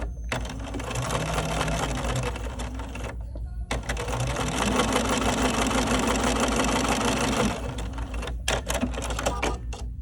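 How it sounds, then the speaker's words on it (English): A sewing machine stitching pieces of a quilt block in bursts of rapid mechanical chatter. There are short pauses and a steadier, louder run in the middle, and a voice speaks faintly underneath. "we're gonna sew that one"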